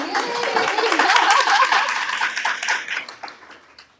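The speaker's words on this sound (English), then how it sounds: "let's give him a round of applause" An audience claps for Daniel at a partners network event, with dense, full applause that holds strong and then thins out and fades toward the end.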